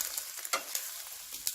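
A Japanese omelette cooks in a pan on a bush camping stove, a faint steady sizzle punctuated by a few sharp scraping taps of a utensil, close by with no voices.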